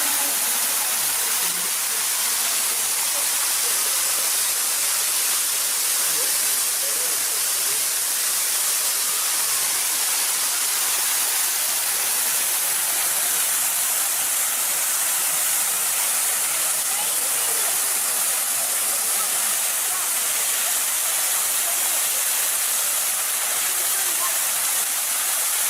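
An Ohio waterfall with water dropping about 90 feet, a loud continuous broadband roar and hiss that holds steady and unbroken throughout, with no voices over it.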